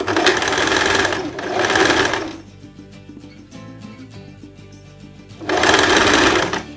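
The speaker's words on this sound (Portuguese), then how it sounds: "E vou costurar agora essa parte do revel." A sewing machine stitches a dress hem in two loud, steady runs at the start and another at the end, separated by a quieter pause with light handling noise.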